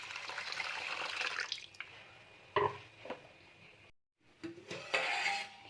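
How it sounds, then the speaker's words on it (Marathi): Water poured into a vessel of washed rice and lentils set to soak for masala dosa batter, a running splashing pour followed by a few clinks and a brief break, then more pouring, close and alone. "आता आपण यामध्ये पाणी टाकून हे 5 तासासाठी भिजत घालणार आहोत"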